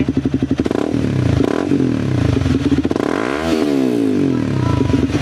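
A sportbike motorcycle accelerates on throttle, its engine note rising and falling in a loud, close, revving pull while a beginner rides on a mountain highway.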